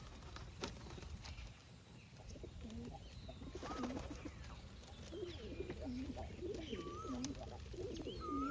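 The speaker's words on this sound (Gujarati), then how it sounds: "देखो तो ये चोटी वाला कबूतर है" Repeated soft coos of a crested pigeon, low and rounded, recur through the clip over a busy outdoor background with faint chirps and scattered rustling.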